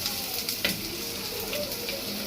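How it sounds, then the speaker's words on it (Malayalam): Onions and ginger sautéing in a pan for a spicy fish curry, a steady close crackling sizzle with a couple of faint stirring scrapes. "ഇനി ഇത് നന്നായി വഴറ്റാം."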